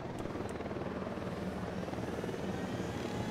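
A helicopter in the video game Ghost Recon Wildlands gives off a steady, continuous rotor and engine drone throughout, with no talk over it.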